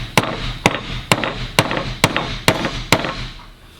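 A hammer taps the edge of a metal turbo mount in seven sharp, evenly spaced strikes, each ringing briefly, close by with no talking.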